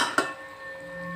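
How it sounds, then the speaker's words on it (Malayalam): A lid is set down on a clay cooking pot of simmering beef liver curry: one sharp clack, followed by a faint ringing tone that lingers in a quiet kitchen. "ഇനി നമ്മൾക്കത് മൂടി വയ്ക്കാം"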